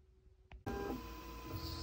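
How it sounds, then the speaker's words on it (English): A Creality K1 Max 3D printer starts a TPU print with a click, then a steady whirring motor and fan drone continues close by. "So just starting the TPU print, as you can see, the flow test is running perfectly."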